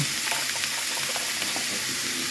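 Taco meat stirred with tomato sauce in a pan, a continuous bubbling sizzle with scraping stirs, close and steady, with no voices.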